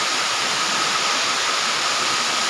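A powerful waterfall in Libmanan, Camarines Sur, roars as a loud, steady, close wash of rushing water that fills the whole moment without a break.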